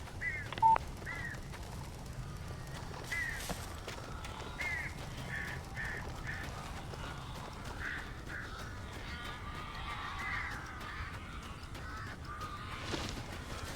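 Crows cawing in the horror video game Alan Wake Remastered, repeated short harsh calls scattered across a low ambient background, moderately distant, with no talk.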